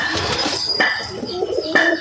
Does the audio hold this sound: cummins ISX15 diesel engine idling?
no